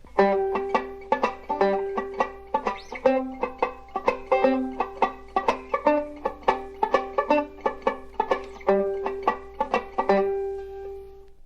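Short, clipped five-string banjo chords in a steady choppy vamping rhythm, each strum quickly damped by fretting hand muting, played alone and up close.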